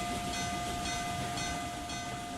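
A moving Reading T1 train in a Roblox RO-Scale Sandbox railway game gives a steady rumbling drone with a sustained whistle-like tone, even and continuous with no talk.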